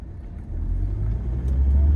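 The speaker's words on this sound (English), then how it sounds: "You can see the car accelerates great." A Mercedes 300SD on the road produces a deep, loud engine rumble from inside the car that builds steadily as it accelerates, with no talk over it.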